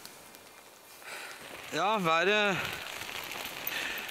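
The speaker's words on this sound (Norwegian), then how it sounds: "til at det nå regner som bare det på morgensiden" Heavy rain falls steadily on a Yukon moose-hunting camp as a constant close patter, while someone speaks briefly over it.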